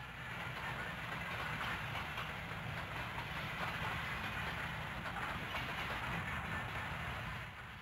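A freight train rumbles steadily past on a mountain railroad in Tehachapi with a continuous roar and faint clatter of wheels, sustained and even throughout, with no voices.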